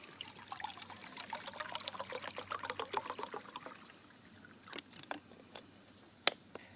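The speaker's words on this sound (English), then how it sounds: "I'm also going to add my water to my pot." Water pours from a bottle into a pot from an Esbit solid-fuel cookset outdoors. A close, bubbling trickle runs for about four seconds, then tapers into a few scattered drips and small clinks.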